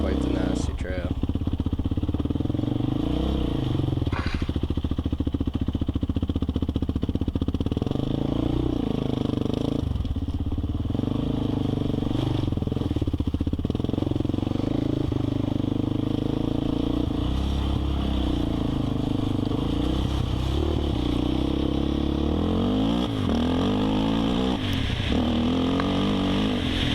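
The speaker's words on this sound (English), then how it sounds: "As you can hear the seat bouncing, the plastic bouncing." Suzuki LTZ 400 ATV riding a rough, nasty trail, with the seat and plastic body panels rattling and clattering continuously over a steady engine drone, close and busy throughout.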